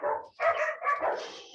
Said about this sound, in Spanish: pesadito mis perritos hoy